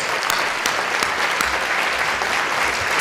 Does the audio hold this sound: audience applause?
yes